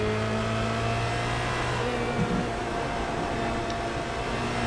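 Formula Renault race cars lapping Okayama in a racing video game give a steady, droning engine whine held at high revs, loud and continuous with a slight pitch shift midway.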